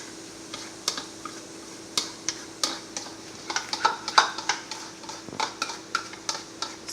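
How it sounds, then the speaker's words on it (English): Carrots tossed into a pan of broccoli and chicken, a scatter of sharp clicks and taps as pieces land and are moved, close and irregular over a faint background hiss. "I'm gonna go ahead and add in our carrots."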